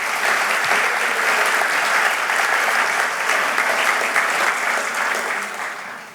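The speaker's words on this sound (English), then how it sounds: "Let's give them all a round of applause," A luncheon audience gives sustained, dense applause for event sponsors, a full room clapping steadily and fading slightly at the end.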